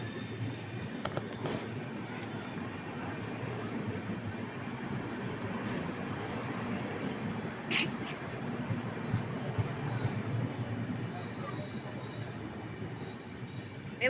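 A Rampurhat–Howrah Vishwabharati Express pulls into Chandannagar station with a steady, continuous rumble of rolling coaches and a few brief higher squeals and clanks partway through, heard from close by on the platform.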